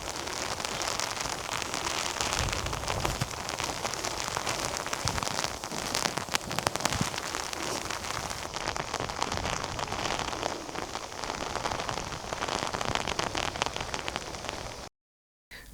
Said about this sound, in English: Here comes the rain again.